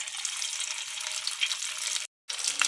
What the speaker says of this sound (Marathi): छान असं लालचा रंगावर तळून घेऊ